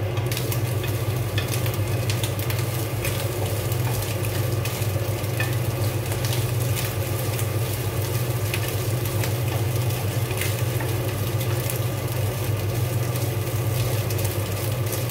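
Lamb kokoreç, lamb intestines, frying in a pan at home, giving off a steady, dense sizzle with crackles and small pops throughout, close and continuous, with no talk over it.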